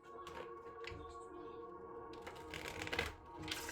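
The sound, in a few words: shuffling tarot cards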